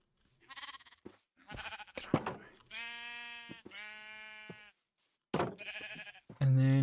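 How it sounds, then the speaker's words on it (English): Minecraft sheep bleat several times in short, clear, nasal bursts, with brief gaps between calls and a louder final bleat, alone without talk. "they should make a little orange baby sheep"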